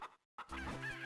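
Chickens in The Legend of Zelda: The Minish Cap give short, quiet clucks, broken by a brief gap, then a steadier run of soft, close clucking.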